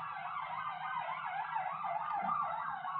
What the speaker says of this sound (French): T'entends la sirène?